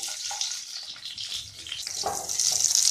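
Garlic, ginger and onions frying in hot oil in a kadhai over a medium flame, a steady bright sizzle with soft stirring scrapes.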